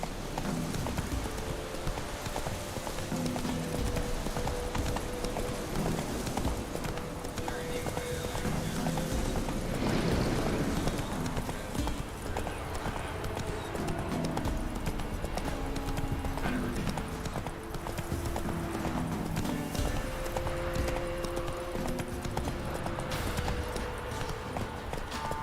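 Roach, a horse in a video game, gallops with rapid, steady clip-clop hoofbeats running continuously up close, accompanied by a snort or whinny and a backing musical drone.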